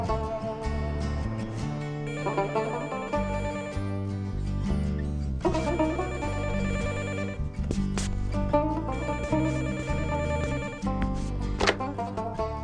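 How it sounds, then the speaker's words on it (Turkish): Telephone ringtone plays steadily as a call is placed at home at night, its repeated ringing pattern carrying on throughout at moderate level with no talk over it. "Bir telefon açalım."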